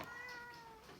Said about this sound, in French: tu as peut-être entendu mon chat miauler